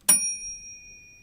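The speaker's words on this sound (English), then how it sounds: "Was there a bell noise?" A single bright bell ding rings out clearly, then decays into a lingering metallic tone.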